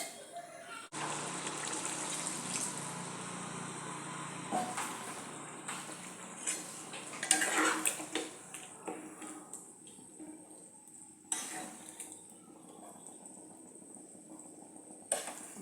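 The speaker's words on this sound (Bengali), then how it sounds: "এবারে এটাকে একটুখানি ফুটতে দিয়ে দেব।" Chana masala with tomatoes simmering in a pot, a steady bubbling boil that runs throughout at moderate level, with occasional clatters of a lid or utensil and a few gushing bursts.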